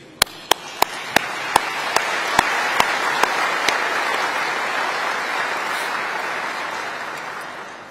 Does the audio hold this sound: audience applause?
yes